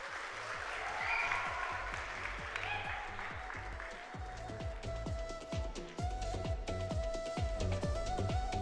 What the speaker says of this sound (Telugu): ఎవరో తప్పట్లు కొట్టండి.